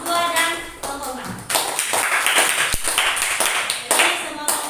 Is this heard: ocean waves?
no